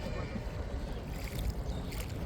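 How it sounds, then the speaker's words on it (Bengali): An empty trawler boat on a river near Savar, Dhaka, rumbling past as a faint, steady low churn of engine and water washing against the hull, distant and without talk. "ট্রলার আইতেছে"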